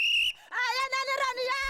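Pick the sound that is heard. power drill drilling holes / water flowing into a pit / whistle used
whistle used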